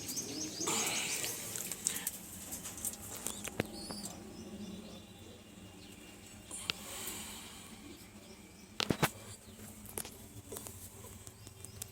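Pigeons in a loft coo softly and give scattered chirps, fairly quiet and distant under a steady room hum, with a few sharper clicks and taps.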